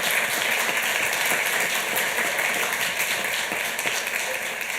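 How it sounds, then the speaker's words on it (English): A city council chamber audience applauds for a family in attendance, a sustained even roar of many hands clapping that fills the room without pause, no talk. "Let's give them a big round of applause."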